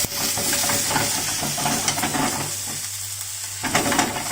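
Chili and garlic stir-fried in hot oil for Thai pad kra pow, a steady loud sizzle with a broad hiss and the scrape of a spatula, close and continuous, easing briefly near the end before flaring again.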